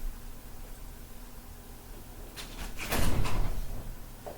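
A house door swings open to let a pet outside, a brief rustling clatter and thump near the end after a stretch of quiet room hiss.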